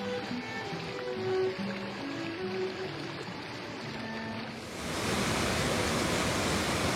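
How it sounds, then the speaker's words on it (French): Rushing water from cascades and rapids among rocky boulders in a remote river gorge, a steady broadband roar that swells louder and denser near the end, with no voices. "Des kilomètres de bassins, cascades, blocs rocheux, dans des gorges retirées du monde."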